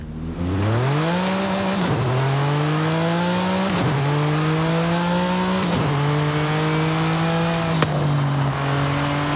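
A 2019 Porsche 935 with a 3.8-litre twin-turbo boxer engine, driven in Forza Horizon 5, revs hard and loud, climbing through several gears with sharp drops in pitch at each upshift roughly every two seconds.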